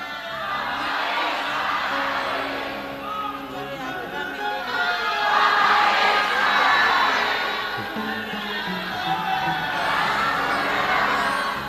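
A large crowd at a Shiv Mahapuran katha religious gathering in Prayagraj makes a broad, swelling roar of cheering and clapping that rises and falls in waves over several seconds.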